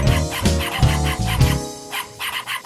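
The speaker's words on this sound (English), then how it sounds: "Why'd they have to get a yappy wiener dog when there are so many sweet demeanor dogs?" A yappy wiener dog barks in sharp, loud bursts, several quick yaps in an uneven rhythm, close and alone with no talk.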